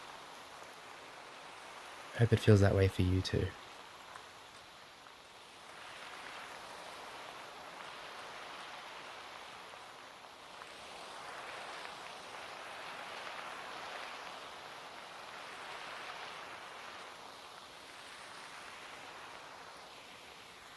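A soft, steady wash of rain falling outdoors near a small lone house, continuous and fairly faint throughout, with a brief louder knock early on and a quiet voice speaking over it.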